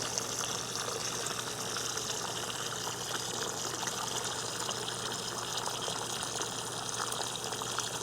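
Water pours steadily from a garden hose into a container, making a constant mid-level rushing flow over a low hum. The sound holds unchanged for the whole stretch, with no voices.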